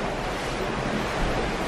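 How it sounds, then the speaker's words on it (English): Ocean waves wash steadily against the hull of a Disney Dream cruise ship, a continuous loud roar of surf mixed with wind, with no voices. "The waves against the boat."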